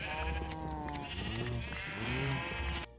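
Minecraft sheep bleat repeatedly during shearing, several wavering in-game bleats in close succession with harsh clicky overtones, loud and up front, with no one talking.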